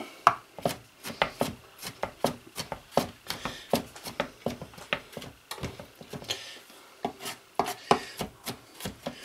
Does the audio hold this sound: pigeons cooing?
no